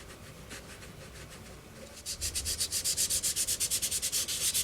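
Sandpaper rubbed over a plastic part from a 2001 EVA pod model kit, starting with soft scattered strokes, then a fast, even run of rhythmic back-and-forth sanding strokes, close and clear.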